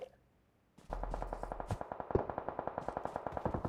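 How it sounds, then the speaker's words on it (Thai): Rapid bursts of gunfire in PUBG Mobile rattle in a steady automatic rhythm after a quiet start, loud and punchy with a short echo. "โอ้โหเสียงปืนมัน"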